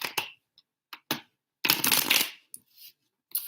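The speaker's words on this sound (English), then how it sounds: "Let me get 3 more shuffles for you guys." Tarot cards are shuffled by hand in short bursts of papery riffling and snapping, with a longer flurry in the middle and brief quiet gaps between, close and clear with no talk.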